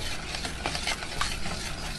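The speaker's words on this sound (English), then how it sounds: "while that butter's still in there getting melted" Butter melting in a hot pan for a broiled coconut cake topping, giving a steady, close, even sizzle with faint stirring scrapes and no speech.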